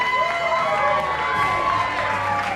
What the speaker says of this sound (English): Now, let's give all those donors one more round of applause.